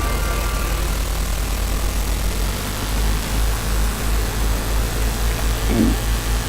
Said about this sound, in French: Voilà, hop, on saute dans le tracteur.